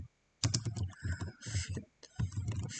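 Typing on a computer keyboard at a Linux terminal: close, rapid clacking key presses in short bursts separated by brief pauses, with no talk.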